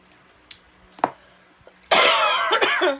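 A few short single coughs from an adult in a quiet room, followed by a longer, louder harsh coughing fit, close to the microphone.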